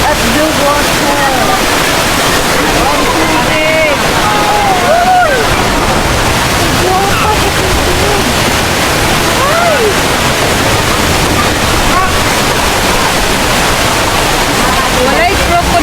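Rushing water from a waterfall at a swimming spot in Hong Kong, a loud continuous roar filling the whole clip, with people talking and calling out over it.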